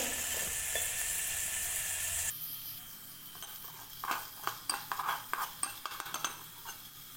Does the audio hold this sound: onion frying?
yes